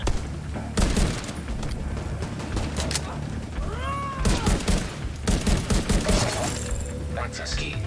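Gunfire erupts in Tom Clancy's The Division 2, sharp loud volleys in bursts separated by short pauses, with talk and game voices layered over the shooting.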